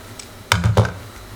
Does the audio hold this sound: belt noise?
no